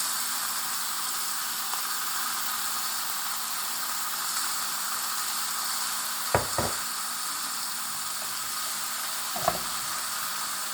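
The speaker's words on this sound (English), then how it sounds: "After adding the eggplant, I am adding some salt according to taste, and then keep sauteing until it is cooked." Japanese eggplant sautéing in a pan gives a steady, even hiss of frying throughout, broken by two brief spatula knocks midway and one near the end.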